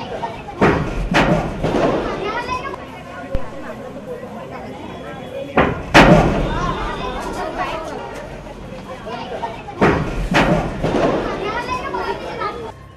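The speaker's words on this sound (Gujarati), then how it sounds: "પાઇપલાઇનમાં થતા જોરદાર ધડાકાના કારણે લોકોની ઊંઘ જરૂર ઉડી જાય છે" Loud, booming thuds burst from an Ahmedabad municipal water pipeline at irregular intervals, each one sharp and heavy, while people chatter in the background throughout.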